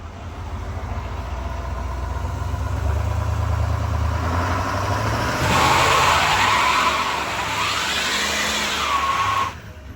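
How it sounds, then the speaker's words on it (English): A race truck does a burnout with stability control switched off, its engine roaring under a long, loud tire squeal that swells and wavers for several seconds before cutting off abruptly near the end. "Let's see if this thing will do a better burnout."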